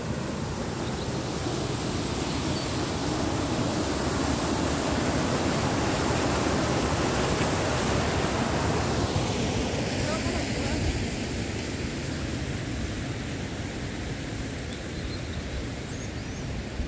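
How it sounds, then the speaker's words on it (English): Waterfall near Ffestiniog power station in Blaenau Ffestiniog, a steady broadband rush of falling water, close and loud throughout, with wind buffeting the microphone and no clear speech. "Some more waterfalls up here if you can see them."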